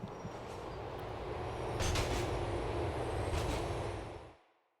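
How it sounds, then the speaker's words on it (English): A train in GTA rumbles past as a loud, broad, steady roar with faint metallic rattles, then cuts off abruptly near the end; no talking. "all you had to do was follow the goddamn train, CJ!"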